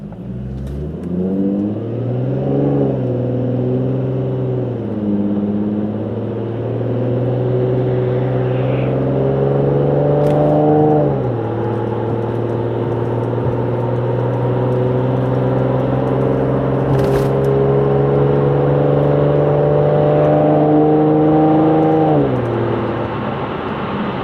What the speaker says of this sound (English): yes, you can really hear the exhaust, but it's not the low frequency tone that everyone hates